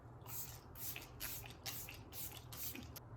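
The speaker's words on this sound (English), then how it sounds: "Now I'm just going to set my face with my e.l.f. setting spray" Repeated short bursts of e.l.f. setting spray misted onto a face, about six crisp hissing puffs in a steady rhythm, close to the microphone in a quiet room with no talking.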